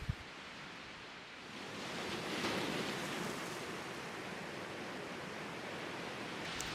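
Rough sea surging against the shore beside Old Kiess Castle, a steady broadband wash of breaking waves that swells slightly midway and holds loud and continuous, with no voices.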